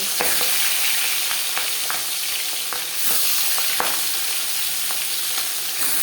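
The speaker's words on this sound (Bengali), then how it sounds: "পাঁচ চামচ রিফাইন্ড অয়েল গরম করে নিয়েছি সবার প্রথমে আমি মাছের মাথা ভেজে দেবো" Fish heads fry in hot refined oil for a Bengali rui fish curry, giving a steady dense sizzle with sharp pops and spatters close by, heard alone without voices.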